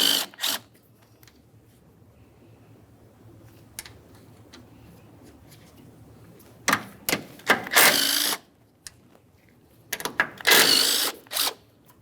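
A 14mm mounting nut comes off the strut tower of a 2006-2012 Ford Fusion, with a few sharp bursts of ratchet or power-tool spinning between quiet pauses, close by and loud.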